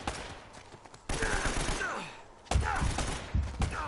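Gunfire in the Uncharted video game: dense bursts of rapid shots and fusillades, loud and close, in two heavy waves with game sounds between and a voice briefly heard.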